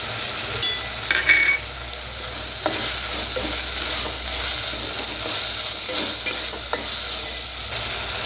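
Mixed vegetables and spice paste sauté with turmeric for veg pulao, a steady close sizzle with occasional spoon-scraping stirs and no talking.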